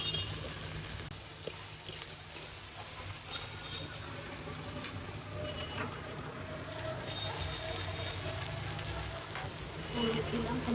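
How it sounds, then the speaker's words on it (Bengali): Ginger and garlic fry lightly in a pan at home, giving a soft, steady sizzle with faint ticks and stirring throughout. A low background hum runs underneath. "একটু হালকা ভেজে নিলাম আদা রসুন"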